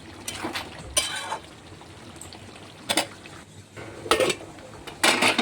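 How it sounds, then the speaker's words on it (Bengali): Chicken being sautéed and stirred with masala and meat masala in a pan, with intermittent scrapes and clatters of a spatula against the pan over a soft, low cooking bubble. "একটু ভালো করে মশলাটা কষিয়ে নেবো মাংসটা।"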